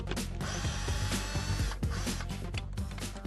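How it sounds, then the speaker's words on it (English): A power screwdriver or ratchet backs out the two screws holding the onboard diagnosis socket in a Mercedes-Benz, a dense, continuous mechanical whirring and clicking with steady loudness throughout, close up and alone. "Unscrew and then lever out the socket using an assembly wedge and unplug."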